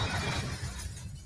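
Glass shatters in a horror film scene, a loud dense crash of breaking fragments that quickly thins out and fades.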